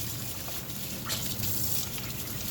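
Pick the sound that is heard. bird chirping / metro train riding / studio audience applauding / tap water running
tap water running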